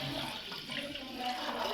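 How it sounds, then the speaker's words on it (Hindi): Water gushes steadily into a steamer pot being readied to steam chicken legs, a close, continuous rushing pour. "Now we are adding water"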